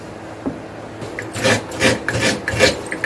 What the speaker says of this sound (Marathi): नारळ घेतलाय, आता मी याला किसून घेते विळीवर।